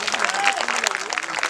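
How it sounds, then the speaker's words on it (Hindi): Applause rises from an audience at a Bheem Jagran gathering in Khairpur, brief scattered clapping with a voice speaking over it. "बस जोरदार ताली हो जाए बाबा साहब के लिए।"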